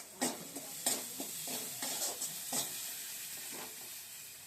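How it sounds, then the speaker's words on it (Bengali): Cashew and green chili paste hits a hot frying pan with a loud, steady sizzle, broken by several clattering stirs of a utensil against the pan. "এইবার আমি কাজু বাদাম আর কাঁচা লঙ্কাটা বেটেছিলাম ওটা দিয়ে দিলাম।"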